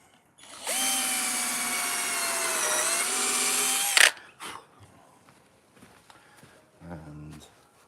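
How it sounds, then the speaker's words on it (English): A power drill runs steadily through wood for a few seconds up close, its motor pitch dipping slightly under load, then stops, followed by a few soft knocks. "And just drill it where you've"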